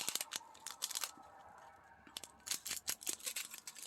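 Repeated crisp snips of scissors cutting, a quick irregular series of sharp clicks close by, with a brief pause in the middle.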